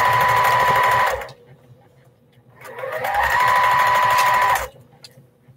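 A sewing machine stitches quilt blocks in two loud, steady bursts, each running about a second or more, separated by a brief quiet pause.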